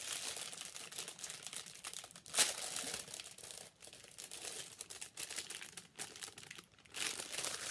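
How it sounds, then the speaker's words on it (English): Crinkly plastic packaging around a cross-stitch fabric piece (16 count, 18 by 26 inches) rustles continuously and fairly quietly, with brief sharper crackles and one louder crunch partway through, no talking over it. "Sorry about the rustling."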